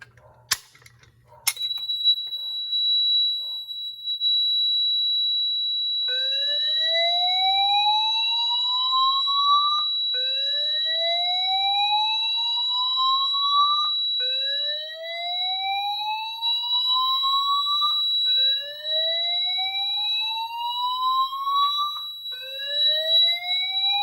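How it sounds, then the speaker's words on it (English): A loud Notifier 5000 voice fire alarm system sounds a steady high tone, then repeating slow rising whoops, each sweep climbing over a few seconds, one after another. "the system is set on slow whoop only"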